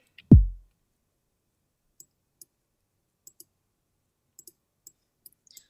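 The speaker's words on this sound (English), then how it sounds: "I started off with just a very simple kick sound" A single simple hardstyle kick drum hit lands as a deep, booming thump that decays quickly. Faint scattered clicks follow in near silence.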